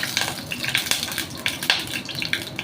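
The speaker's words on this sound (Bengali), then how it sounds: "কড়াই একদম চড়বার করে উঠেছে ডাল ধোয়া জলটা হাতে ছিল" Water drops hit hot oil in a wok and sizzle, crackling in quick bursts close by and fairly loud, with a little pan clatter.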